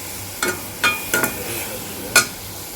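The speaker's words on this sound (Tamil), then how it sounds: "தக்காளி சேர்த்துட்டு நல்லா வதக்கணும்" Tomatoes are sautéed with onions in a pan: a soft sizzle sits under four sharp, close spatula scrapes against the metal, irregularly spaced, with no one speaking.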